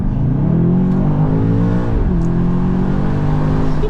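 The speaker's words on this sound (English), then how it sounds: "Let me see if I can do a little pull real quick. You guys can listen to it." A BMW XM Label Red accelerating hard from inside the cabin, a steady, loud engine drone climbing in pitch, dipping briefly at a gear change, then pulling up again.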